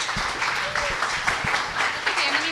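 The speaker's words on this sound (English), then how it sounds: "So let's give her a really big," Audience applause at a water resilience talk in Orlando, a dense steady wash of many hands clapping throughout, moderately loud in a room.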